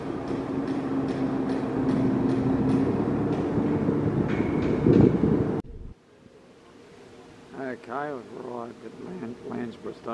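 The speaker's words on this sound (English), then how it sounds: "We're getting a train from here towards Brisbane and home." A commuter train near Ipswich, heading towards Brisbane, rumbles loudly and steadily for about five seconds with a brief sharp burst before cutting to quiet, after which a person speaks.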